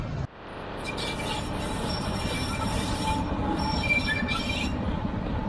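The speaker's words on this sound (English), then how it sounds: "I'm pretty sure that was our train engine" A narrow-gauge railway train rolls past at Trai Mat near Da Lat, Vietnam, with steady rumbling wheels and high squealing metal on the rails, loud and continuous throughout.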